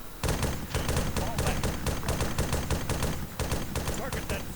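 Loud, close automatic gunfire from a squad engaging armed figures up ahead: rapid, overlapping shots and bursts that roll on without a break for over four seconds.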